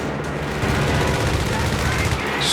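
Machine gun fire in the Company of Heroes 3 World War II strategy game rattles as a dense, loud and unbroken stream of automatic shots over heavy battlefield noise.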